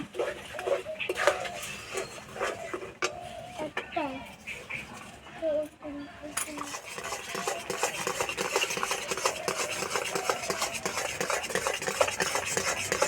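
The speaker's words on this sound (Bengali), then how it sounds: "এইভাবে অনবরত নাড়তে হবে নাহলে তলাতে লেগে যাবে" Jaggery being stirred continuously in a pan, a steady scraping and clinking of a spoon against metal with soft sizzling underneath, close and moderately loud, while a person speaks over it early on.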